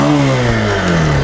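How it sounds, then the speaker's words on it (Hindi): A Pulsar 150 motorcycle engine runs steadily and loud, its revs sliding gently with a mid-pitched rumble throughout, no voices over it. "आप देख सकते हो गाड़ी स्टार्ट हो चुकी है"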